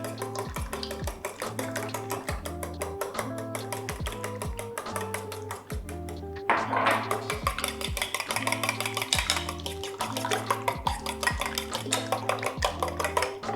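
Eggs and coconut oil mixed for gluten-free bread, heard as steady repetitive scraping and tapping of a utensil against a bowl, continuing evenly throughout with no talk.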